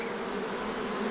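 Honey bees crowding a heavy hive frame of stored food during a split, giving a steady, close buzzing hum with no talking.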